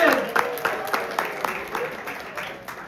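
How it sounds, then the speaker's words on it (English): An audience at a college pep talk on business communication gives a round of applause, a wash of clapping with distinct louder claps that gradually thins out, with some talking mixed in. "So can we have a big round of applause for Pratyush as"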